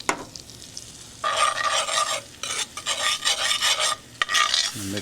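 Butter and flour are stirred together into a roux in a pan on a pellet grill, giving soft scraping, rasping strokes in bursts with brief pauses, fairly quiet and with no talking.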